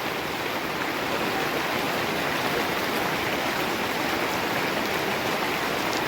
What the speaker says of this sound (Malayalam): ഈ പാടത്തു നിന്നാണ് ഇങ്ങനെ വെള്ളം കയറിയിരിക്കുന്നത്